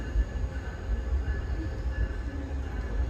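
Low, steady rumble of trains inside the VIA Rail terminal at Union Station in Toronto, with constant hum and rolling rail noise at a moderate distance and no talk.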